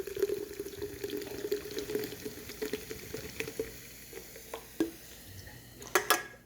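Room-temperature flavored water pours into a glass, a quiet fizzing trickle with scattered small clinks and splashes, growing a little busier toward the end; no one speaks.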